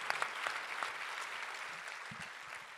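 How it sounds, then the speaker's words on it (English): Audience applause for a panel at a SXSW 2019 session, a steady wash of many hands clapping that fills the space, fairly even throughout with a few sharper claps near the start. "give them a big round of applause"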